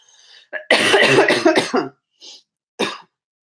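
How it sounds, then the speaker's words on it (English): A person coughs during a live stream, a burst of harsh, close coughing followed by two short, quieter coughs after brief pauses. "Now my coughing's coming"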